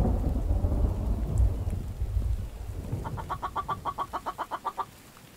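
A chicken in a video game gives a rapid series of about a dozen evenly spaced clucks near the end, following a stretch of low rumbling, thunder-like ambience.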